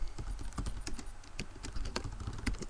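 Quick, uneven keystrokes tapping on a computer keyboard as city names are entered in a Civilization III scenario editor, close and clear with no voices.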